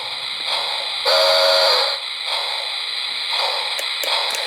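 A Lionel HO Polar Express Berkshire steam locomotive model sounds a steady, hissing steam whistle with a louder blast in the middle and small steam chuffs around it, loud and close.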